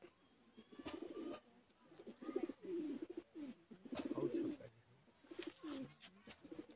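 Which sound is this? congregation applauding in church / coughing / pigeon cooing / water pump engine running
pigeon cooing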